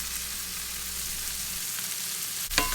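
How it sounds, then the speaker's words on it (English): Brussels sprouts seasoned with salt, pepper and garlic-and-wine seasoning frying in a pan, giving a soft continuous sizzle with a brief stir or scrape near the end. "And we'll give that a stir"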